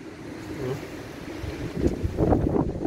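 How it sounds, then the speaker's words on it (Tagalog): Strong wind buffets the microphone with a low, rumbling roar that grows heavier and gustier toward the end. "Gusto tangayin yung hangin."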